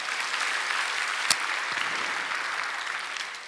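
A church congregation at a Wednesday worship service claps together in a dense, steady burst, with one sharp louder clap standing out near the middle.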